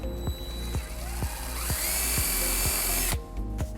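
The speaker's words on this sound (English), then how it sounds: "3/16 drill bit and drill our first hole." A power drill with a 3/16 bit bores a hole in the underside of a trailer hitch on a 2016 Honda Pilot: the motor whine climbs and holds for about a second and a half, then cuts off, with faint regular ticking throughout.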